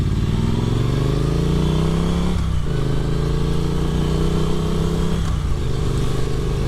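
A 2022 Triumph Street Twin 900 with its stock exhaust is ridden on an evening cruise, a close, loud rumble that rises through the revs and dips at two gear changes.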